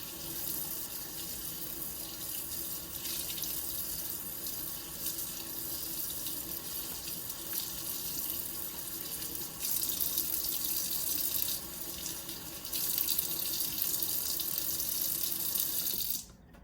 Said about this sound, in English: And I'm just gonna rinse this chicken.